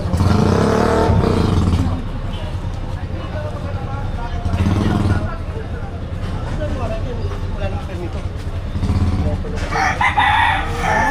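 A rooster crows loudly and close by, three times at intervals, while people talk in between.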